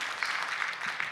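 Brief burst of audience clapping at the ARCOS utility conference, a dense steady patter of many hands, moderately loud and unbroken.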